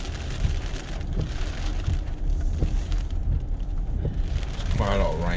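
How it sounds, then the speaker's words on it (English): Steady rain patters and drums on a hybrid car over a low engine and road rumble, with a brief voice near the end. "you guys can probably hear the rain"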